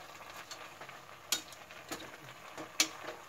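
Spinach cooks in an open pan, turned with a spoon, giving a soft sizzle broken by a few light scraping clicks against the pan, quiet and close with no talking.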